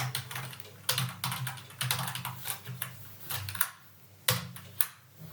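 Computer keyboard typed on at close range, uneven bursts of clicky keystrokes with short pauses, over a faint steady hum.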